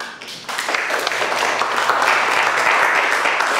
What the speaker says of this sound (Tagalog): Bakit kayo pumapalakpak?